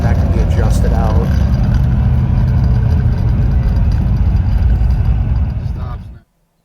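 A 1955 Chevy Bel Air two-door post drives and accelerates with a steady, loud engine drone and road rumble that cuts off abruptly at the end, with someone talking over it.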